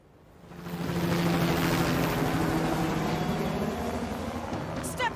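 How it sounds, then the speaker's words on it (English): Helicopter approaching in the video game As Dusk Falls, a steady rotor and engine roar swelling in from quiet and holding loud and continuous, with faint voices underneath. "A helicopter approaches."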